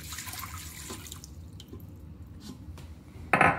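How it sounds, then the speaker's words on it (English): Water is poured into an Instant Pot during a Fourth of July family cooking session, a soft trickle and dripping splash close by, ending in a brief louder splash, with no talk. "Can we pour the water in?"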